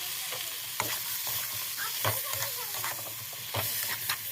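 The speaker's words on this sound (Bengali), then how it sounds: "আমি কাঁকড়াগুলো দিয়ে দেবো, দিয়ে এই কাঁকড়ার সাথে কষাতে থাকবো" Crabs stir-fried in hot spiced oil on a medium flame give off a continuous sizzling hiss, broken by repeated scraping and knocking of a spatula against the pan; close and fairly steady, no voices.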